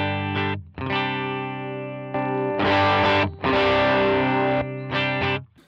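Electric guitar played through the US Princess amp model on an HX Stomp in mono, ringing out a few sustained, saturated chords with short gaps between them, loud and close, no voices.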